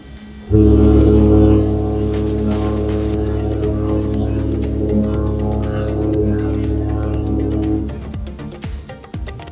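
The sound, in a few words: cruise liners exchanging horn blasts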